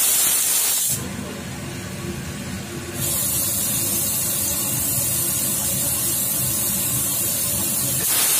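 A pressure cooker with mutton inside gives off a loud, continuous steam hiss. It dips briefly near the start, then roars back at full strength and holds steady to the end.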